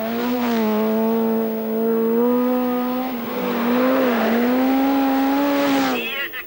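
A 1986 Swedish Rally car drives a stage, its engine note rising and falling with gear changes as it accelerates, fairly close, heard under commentary.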